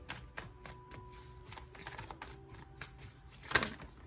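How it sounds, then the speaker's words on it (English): A deck of tarot cards being shuffled by hand, with a quick run of riffling flutters and soft card slaps close to the mic and one sharper burst of cascading cards near the end. "I saw these cards while I was shuffling"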